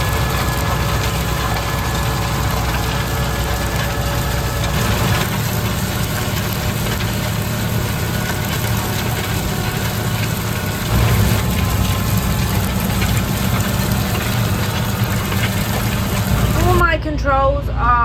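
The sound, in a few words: tractor engine running while pulling a new cultivator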